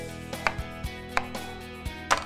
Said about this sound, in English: Easily cut vegetables to uniform size and slice meats without tearing